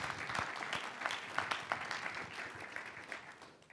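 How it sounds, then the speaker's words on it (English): Audience applauding after a speaker introduction at a sports storytelling panel event, a steady wash of many hands clapping in a hall, fairly near and sustained throughout without talk. "How about a round of applause for Melissa Isaacson?"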